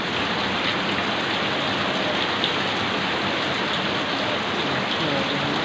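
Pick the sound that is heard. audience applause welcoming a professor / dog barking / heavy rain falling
heavy rain falling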